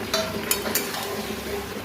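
Potatoes dropped into a pan of frying mutton, a few quick clatters and a stirring scrape over a steady sizzle of hot oil, close and clear.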